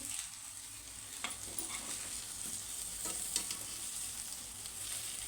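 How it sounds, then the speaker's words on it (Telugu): An egg frying in a pan as it is slowly turned over, a faint steady sizzle running throughout with a few soft scraping touches from the spatula. "ఒకవైపు వేగిన తర్వాత రెండో వైపుకి అయితే నిదానంగా టర్న్ చేసుకోవాలండి నిదానంగా ఇట్లా మొత్తం తిప్పేసుకోవాలి"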